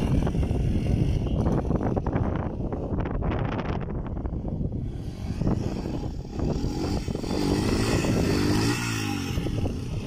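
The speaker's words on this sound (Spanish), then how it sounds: "empiezan a practicar lo que es levantar la moto con esos pasos" Motorcycle engine revving repeatedly as a rider practices lifting the bike into a wheelie, loud and close with wind buffeting the microphone throughout.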